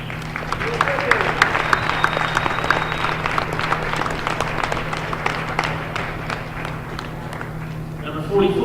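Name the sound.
crowd applause at basketball game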